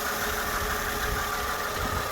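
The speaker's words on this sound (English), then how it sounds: "M113 engine." Mercedes CLK's M113 engine idling smoothly, a steady, even hum with no changes in pitch or level.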